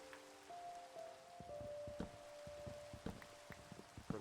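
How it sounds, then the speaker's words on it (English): Rain falls in a calm video game scene, a soft, faint patter of drops with light taps and knocks, set under gentle sustained musical tones. "Oh, it's raining."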